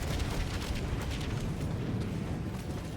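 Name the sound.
grenade pistol shot exploding in the video game Helldivers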